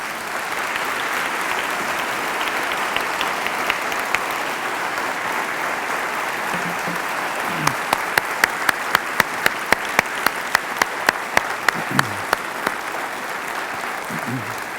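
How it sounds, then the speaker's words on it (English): An audience at a Unity Temple service applauds steadily for about fifteen seconds, and several sharp, evenly spaced claps from someone nearby stand out in the middle of the applause. "Let's give them a round of applause."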